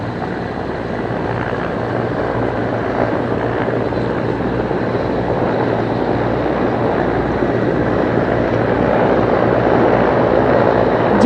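Two Border Guard Bangladesh helicopters pass overhead during a BGB Day parade, giving a loud, continuous rotor roar and engine drone that builds slightly toward the end.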